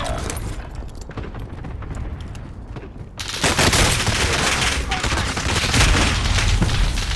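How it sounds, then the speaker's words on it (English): Gunfire from a four-player squad in the video game Vanguard Royale: scattered shots at first, then a loud, sustained barrage of rapid fire over dense battle noise. "it's a four squad shooting at me, boy"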